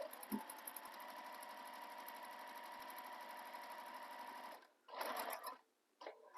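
A sewing machine stitches a handbag with a steady, fast mechanical whir that runs evenly for several seconds, then stops and gives two short bursts of stitching.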